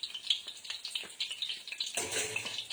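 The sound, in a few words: food frying and browning in pan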